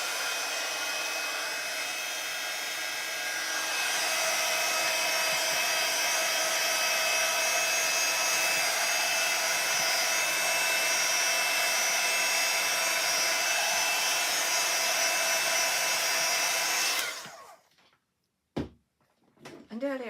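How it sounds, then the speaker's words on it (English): A heat tool blows steadily to dry ink on a card, a loud continuous whirring hiss lasting most of the stretch before cutting off abruptly, followed by a few faint handling knocks. "Just going to do my heater"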